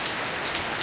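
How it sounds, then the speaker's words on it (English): Rain falling steadily as a storm builds, a dense even hiss with the patter of drops on surfaces, close and continuous for under a second with no voices. "Well guys, starting to rain here, the wind's starting to blow."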